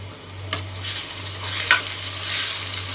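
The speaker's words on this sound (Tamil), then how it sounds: "வெங்காயம் ஃபுல்லாக போட்டாச்சு. இப்போ நல்லா வதக்கிக்கலாம்." Onions sautéed in a pan give a close, even sizzle with a low steady hum beneath and two brief louder stirring scrapes.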